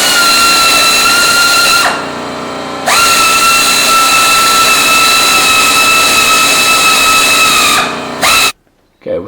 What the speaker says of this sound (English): now we're going to drill this hole right here